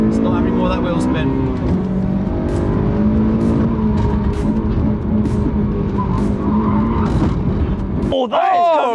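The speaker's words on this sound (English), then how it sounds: "It's not having more of that wheel spin." A brown Honda Civic Type R launches hard at a race start in a £3000 hot hatch challenge, its engine droning loud and steady through wheel spin before cutting off abruptly near the end, with voices talking over it.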